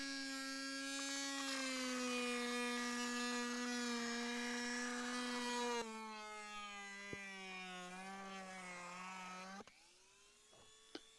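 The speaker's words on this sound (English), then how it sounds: "what I'm using is a side cutter and a Dremel tool" A Dremel rotary tool works alongside a side cutter to rout out the top cover, giving a loud, steady high-pitched whine that shifts pitch twice as the bit bites and eases off, with no talking over it.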